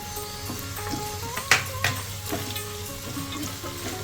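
Green chillies drop into hot oil for tempering, crackling and sizzling steadily up close, with a few sharper pops and spits and light stirring throughout.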